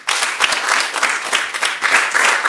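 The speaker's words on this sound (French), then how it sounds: "acclamez très, très fort pour marquer votre présence?" An audience at an evening event claps loudly and continuously, a thick, even wash of many hands with small surges throughout, no talk over it.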